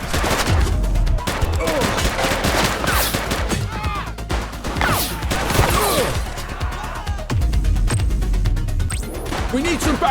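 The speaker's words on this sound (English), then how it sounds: "Keep shooting!" Sustained gunfire in The Precinct during a police firefight, loud overlapping shots rattling on continuously with brief lulls, while voices speak over the shooting.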